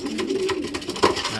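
Young pigeons coo softly in a cage, a low murmuring warble that rises and falls over a short stretch, close and fairly quiet.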